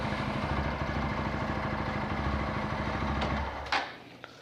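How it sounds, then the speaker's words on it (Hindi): A TVS Apache RTR 160 4V motorcycle engine idles with a steady low rumble on its side stand, then cuts out abruptly when shifted into gear, leaving a couple of faint clicks and near silence. "बाइक को गियर में डालते ही बाइक का जो स्टार्ट है वो बंद हो गया है।"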